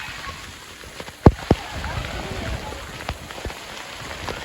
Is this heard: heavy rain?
yes